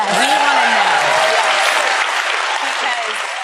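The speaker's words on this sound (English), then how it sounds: "So, they played the applause button." Studio audience applause rises in a dense, steady wash of clapping, loud and close, with a voice briefly audible under it at the start.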